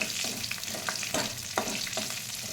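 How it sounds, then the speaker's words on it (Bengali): Dried red chilli, bay leaves, cinnamon and small cardamom fry in hot oil, giving a close, continuous sizzle with soft stirring scrapes and no voices. "এটা একটু ভেজে নিব।"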